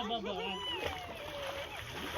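Water splashes and sloshes in a pool while several people talk and call out over it nearby.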